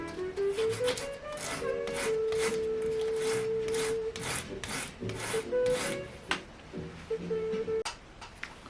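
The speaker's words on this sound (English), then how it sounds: "shave them down using this really coarse sandpaper" Coarse sandpaper shaving wooden shims for a Hagstrom acoustic guitar neck, a steady rasping rub that runs continuously and close, with music playing underneath.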